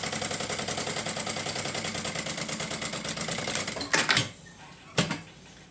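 A sewing machine stitches a pocket lining with a fast, even mechanical chatter for about four seconds, then gives a couple of short bursts separated by brief pauses.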